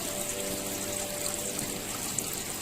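Water falling steadily from an outlet into a shell filter in a shrimp tank, a continuous close splashing trickle with no other sounds.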